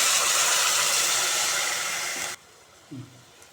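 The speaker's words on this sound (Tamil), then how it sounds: "ஒரு கப் தண்ணி ஊற்றுறேன்" A loud hissing sizzle as a cup of water hits a hot pan of split moong dal, roaring steadily for about two seconds, then cutting off abruptly, followed by a small clunk.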